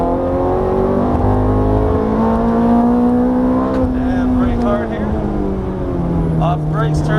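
A Ferrari F430 race car accelerates hard out of a corner on a track, its engine note climbing steadily and loudly through the gears with a smooth rising pitch, heard from on board with a voice talking over the engine.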